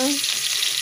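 Chopped onions sizzle in a hot pan while frying for adobo sitaw, a steady close hiss of oil throughout with a faint voice at the very start.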